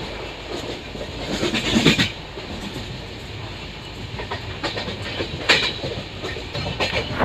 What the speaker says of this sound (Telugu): మన ట్రైన్ వచ్చేసి ప్రజెంట్ ఫ్లాట్ 110 kmph అయితే అసలు తగ్గట్లేదండి